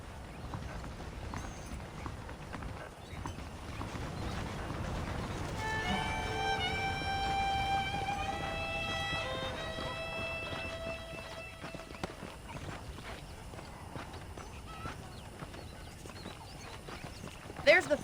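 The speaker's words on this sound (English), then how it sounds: "The horses are saddled up over here." A saddled horse clip-clops along at a steady walk in the Red Dead Redemption video game. The hoofbeats are fairly quiet beneath a voice talking and a sustained musical tone.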